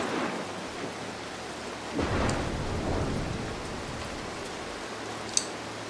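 Thunderstorm in the video game Mark of the Ninja: steady rain hiss with a rolling rumble of thunder building midway and a sharp crack of lightning near the end, no talking.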